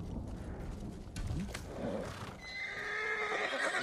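A horse in the video game Ghost of Tsushima neighs and whinnies close by, with hoof clops and snorting before a longer bright whinny rises toward the end, heard alone without speech.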